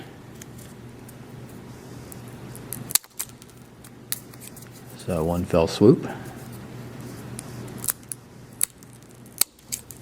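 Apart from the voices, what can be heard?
scissors cutting toothpicks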